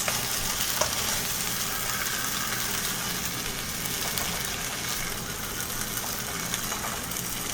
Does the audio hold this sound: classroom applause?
no